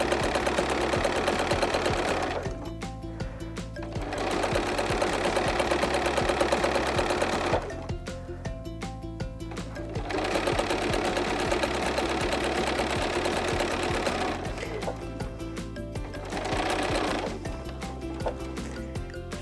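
A sewing machine stitches fabric strip sets for a quilt block in rapid, steady mechanical bursts, running for several seconds at a time with short quieter pauses between runs.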